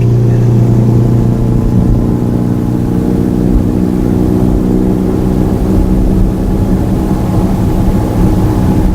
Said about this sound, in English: that's a very noisy motorbike